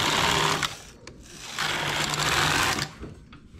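Knitting machine carriage pushed across the needle bed in repeated passes, a loud close rattling whir that stops and starts, with short gaps between strokes.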